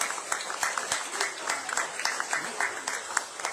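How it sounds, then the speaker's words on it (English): A crowd at a UWP press conference applauds new candidates with scattered, uneven clapping at moderate volume while a voice speaks over it. "give a round of applause for our new candidates."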